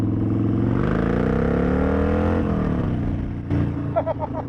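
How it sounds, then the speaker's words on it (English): A 2013 Harley-Davidson Sportster 1200 Custom with Vance & Hines Short Shots exhaust revs hard, a loud, close, throaty V-twin roar that climbs and holds, then drops back to a lumpy, burbling idle. "What a giggle-inducing exhaust note and amount of torque."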